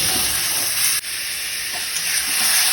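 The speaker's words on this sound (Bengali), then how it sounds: "একসাথে সব দিয়ে এখন ভালো করে কষিয়ে নেব" A ginger, garlic, turmeric, cumin, coriander and tomato spice paste sautés in a pan, giving a steady hissing sizzle with one brief break partway through, close and even, with no voices.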